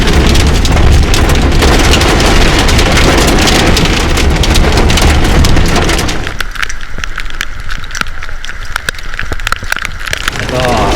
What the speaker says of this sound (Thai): มีฝนตกลงมาอย่างหนักครับถ้าเกิดว่าสังเกตได้ว่าจะมีลูกเห็บนะตกลงมา ตกที่บริเวณหน้ารถครับ